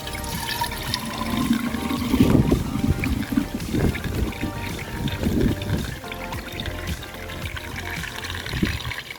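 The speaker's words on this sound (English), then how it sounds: "So pour this pomegranate juice into my jug." Pomegranate juice poured into a jug, a steady trickling, gurgling stream of liquid heard up close for several seconds, swelling and easing slightly as it flows.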